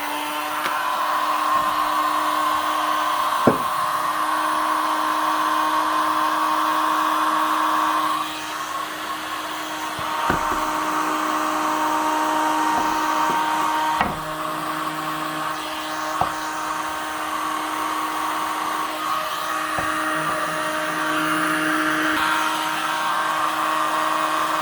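A heat gun blows steadily and loudly as it heats chainsaw crankshaft bearings during a Husqvarna 268 XP bottom-end rebuild, a continuous airy roar with a few sharp tool clicks and taps scattered throughout.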